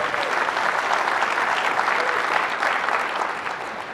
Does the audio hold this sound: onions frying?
no